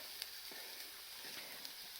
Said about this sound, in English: So the rice, I'll mix it.